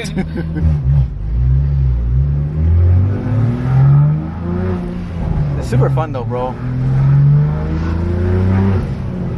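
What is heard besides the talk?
Subaru BRZ with aftermarket exhaust accelerating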